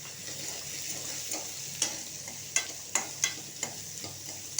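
Oil heating in a kadai for mango pappu gives a soft, faint sizzle, with a run of sharp clicks and pops in the second half as a utensil taps the pan, and no voices.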